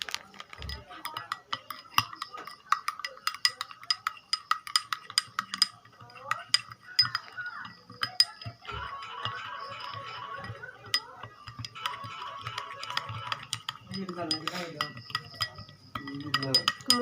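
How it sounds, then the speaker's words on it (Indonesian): A spoon stirs a spoonful of salt into cooking oil, giving quick, close, repeated clinks and light scraping against the container in an uneven rhythm, with brief pauses between bursts of stirring. "kita memasukkan 1 sendok garam ke dalam minyak goreng"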